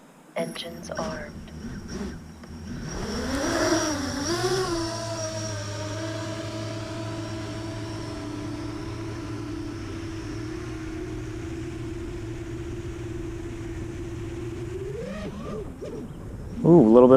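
A 9-inch, 2.2 kg KISS quadcopter drone spins up and flies, its motors rising into a steady droning whine that holds for over ten seconds before swelling again, close and fairly loud with brief talk near the start and end.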